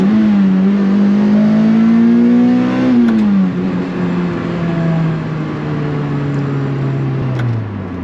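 A Toyota 2ZZ four-cylinder in a 2005 Lotus Elise revs up, holds a steady high note, then drops and eases down in a second long falling pull, close and loud with no talk.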